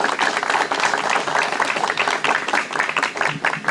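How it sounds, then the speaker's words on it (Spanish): Loud, dense applause fills a ceremony in Nueva Cajamarca as the mayor is welcomed. Many hands clap close and continuously in a busy, even patter throughout, with no voices over it. "Lo recibimos con fuertes palmas"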